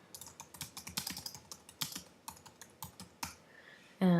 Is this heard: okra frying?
no